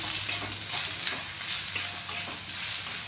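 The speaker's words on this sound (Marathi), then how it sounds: "खसखस बघा छान तडतडायला लागली" Poppy seeds and finely chopped tomato sizzle and crackle in hot masala for a butter chicken curry, a steady close frying hiss with occasional stirring scrapes and no talking.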